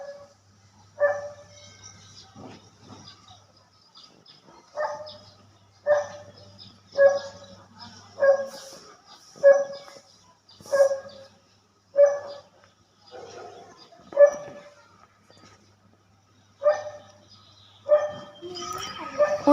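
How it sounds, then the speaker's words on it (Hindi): A sick pet dog barks about a dozen times at a steady, regular pace, each bark sharp and fairly close, with quiet gaps in between. "और जो आपको ये डॉगी सुनाई दे रहा है भौंकते हुए"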